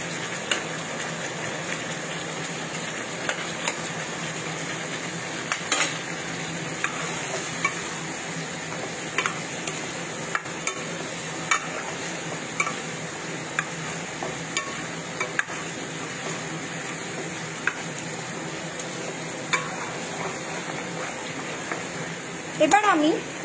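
Lightly fried eggs stirred into a simmering egg korma gravy in a pan: a soft, ongoing sizzle with intermittent scraping and clinking of a spoon, fairly quiet and close.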